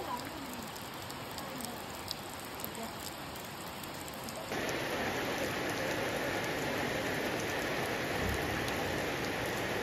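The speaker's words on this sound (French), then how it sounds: "L'averse a recommencé de plus belle." Heavy rain shower pouring down steadily over a village, a dense even hiss that grows louder and fuller halfway through, with no voices over it.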